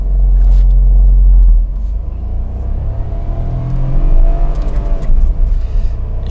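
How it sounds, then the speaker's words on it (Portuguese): A Renault Kwid 2023 car engine is revved up through the gears. A heavy low rumble opens the clip, then the revs climb and fall back at each gear change, loud and close, with no talking. "o quanto que cai a rotação a cada troca de marcha"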